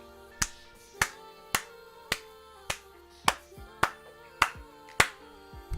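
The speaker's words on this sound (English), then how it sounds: "that's a genuine clap" Single sharp hand claps repeated at a steady, roughly half-second beat, about ten crisp close strikes ringing out alone in a quiet room.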